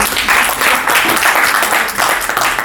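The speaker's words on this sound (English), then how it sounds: "at least you guys can clap today" Business networking meeting audience in a hall clapping together, a steady, even patter of many hands sustained throughout, moderately loud and without speech over it.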